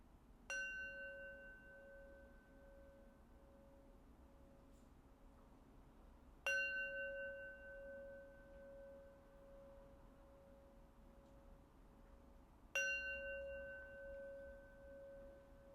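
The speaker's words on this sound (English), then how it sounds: "let's close practice and this exercise with 3 rings of the bell" A bell, likely a singing bowl or chime, rings three times to close a 4-7-8 breathwork practice, each strike sharp then humming away slowly, evenly spaced about six seconds apart in a quiet room.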